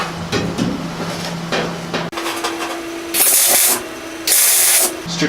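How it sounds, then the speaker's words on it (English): Tack welding on the belly pan of a Thomas rocket car under restoration: two short, loud, close crackling bursts of the welder, each about half a second, preceded by light clanks and shop handling noise, with no talking. "Let me go ahead and place a couple strategic tacks here and there"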